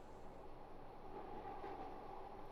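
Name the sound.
Glasgow Subway train running, from a train simulator video game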